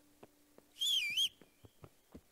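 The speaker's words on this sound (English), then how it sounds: "Oh, whistle at the door?" A character in the medieval video game Kingdom Come: Deliverance whistles for a horse, a single short, bright warbling whistle of under half a second, loud and close, between light footsteps.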